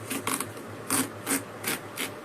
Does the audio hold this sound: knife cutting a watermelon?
yes